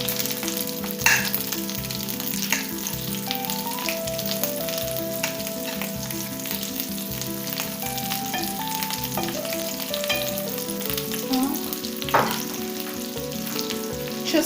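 Butter sizzling in a frying pan with browned pumpkin and chicken for couscous, a steady close frying hiss throughout with a few soft clinks and scrapes, no talking.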